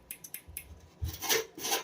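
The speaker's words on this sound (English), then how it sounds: "I'm just going along the sharp edges. Taking off the burrs." Deburring sharp edges of cut aquarium lid material, a series of short scraping and rasping strokes, close and moderately loud, in irregular bursts with no talk.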